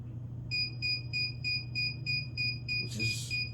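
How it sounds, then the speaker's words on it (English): A Joto 15x15 heat press timer beeps in a regular series of short, clear electronic tones, about eight evenly spaced, followed by a brief clatter as the press opens, over a low background hum. "I want to see where it beeps and how much it beeps when it's opening."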